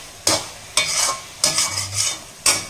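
A coconut and jaggery mixture for coconut laddu stirred in a pan, five sharp scraping strokes of a spoon against the metal at a regular pace, close and loud, with a soft sizzle between strokes.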